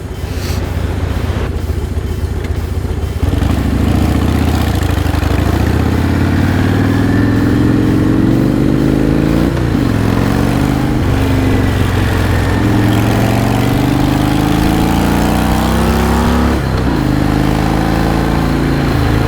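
A motorcycle riding along a road on the way to a fastener shop, its engine droning loud and steady with rising and falling pitch as it shifts and accelerates, with no talking.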